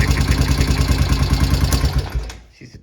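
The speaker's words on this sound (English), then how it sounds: "She's ticking." A Honda TRX250 ATV engine idles with a steady, fast mechanical ticking from a loose intake valve and tight exhaust valve, loud and close, before cutting out abruptly near the end.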